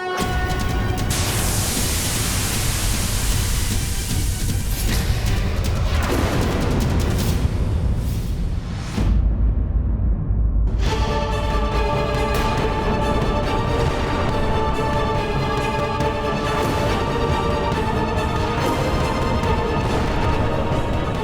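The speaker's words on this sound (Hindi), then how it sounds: "आकाश में हर ओर अग्नि और विस्फोट" Dense, roaring explosions and rumbling booms fill the sky continuously in a Hindi TV drama, loud and close, with a brief drop-out before the thunderous barrage resumes.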